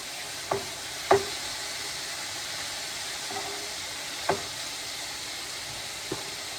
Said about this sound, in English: our bacon's still frying